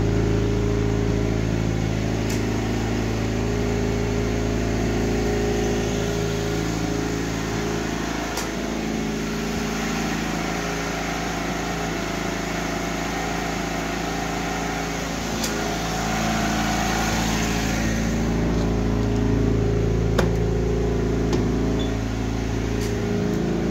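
A Citroën BX 14 engine runs steadily and close, a continuous buzzing, slightly rattly drone with small shifts in pitch and a few faint ticks, and no voices.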